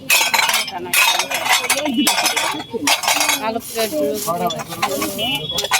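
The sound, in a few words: plates clinking as seller handles them at a fair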